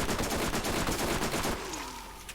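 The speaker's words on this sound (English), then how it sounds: "This SMG is nasty." Sustained rapid submachine-gun fire in the Borderlands shooter game, loud and dense for about a second and a half, then tapering into a fading ringing tail.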